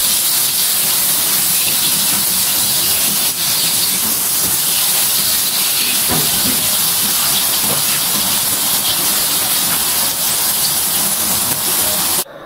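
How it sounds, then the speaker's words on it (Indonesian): Ground dory fish and spice paste stir-frying in hot oil, a loud continuous close sizzle with faint scraping, steady and without pause. "Masukkan ikan dori yang tadi udah digiling bersama bumbu. Lalu diorak-arik supaya ikannya gak ngegumpal."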